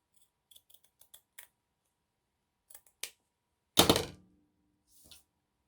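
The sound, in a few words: scissors cutting burlap fabric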